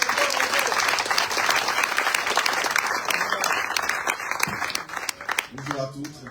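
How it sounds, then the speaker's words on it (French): A French campaign meeting audience claps to welcome Nathanaël Manuel, a running mate of Gérard Monstin: thick crowd applause that gradually thins out toward the end as a few individual claps and stray voices remain. "Sous vos applaudissements,"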